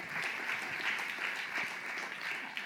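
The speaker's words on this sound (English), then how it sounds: "a round of applause to everybody" An audience applauds at a landscape restoration session: steady, dense clapping that holds at an even level throughout, with no break and no one speaking.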